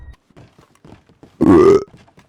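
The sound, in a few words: burp heard over Red Dead Redemption roleplay voice chat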